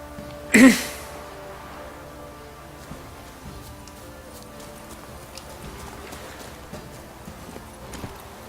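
Horse hooves clip-clop in the Witcher 3 video game, a short loud burst near the start followed by quieter, sparse steps over a steady background.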